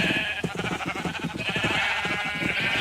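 Several Minecraft sheep bleat in a short, continuous chorus, their wavering calls overlapping close by at a steady, fairly loud level.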